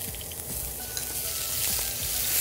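Small shallots fry in melted ghee in a pan, giving a steady, close, dense sizzle with faint stirring scrapes and no voices.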